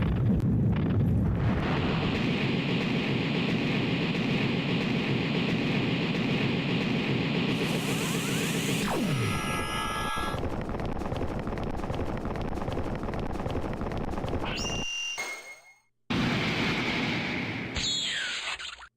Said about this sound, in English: Well, that was a rather dramatic castle explosion.